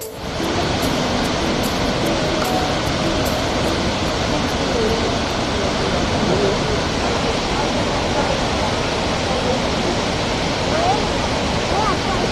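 Pachal waterfall pours with a constant, dense rushing roar that stays loud and unchanging from start to finish.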